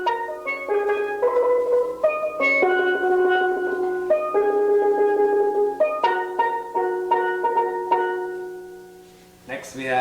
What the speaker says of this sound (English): He starts with the single lead pan.